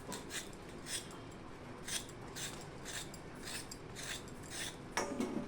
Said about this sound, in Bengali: পটলগুলো না ছাড়িয়ে এরকম করে হালকাভাবে চেঁচে নেবেন।